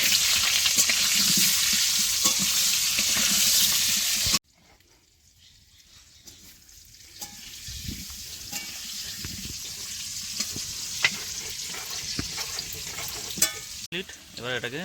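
Loud sizzling of potatoes frying with salt and turmeric in a wok, dropping sharply to a quieter crackle with stirring clinks, then building back up.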